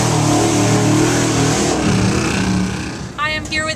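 Modified mud bog truck engine revving loudly at a mud bog event, a steady roaring drone that fades toward the end as a voice speaks over it.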